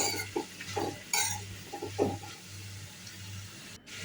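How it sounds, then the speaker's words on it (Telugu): Sliced onions stirred with a ladle in hot oil while cooking an egg curry, giving intermittent scraping and clinking strokes against the pan over a steady low hum, with soft sizzle in the background. "సన్నగా కట్ చేసుకున్న ఉల్లిగడ్డలను ఇందులో వేసుకొని ఒకసారి అంతా గరిటెతో కలుపుకొని"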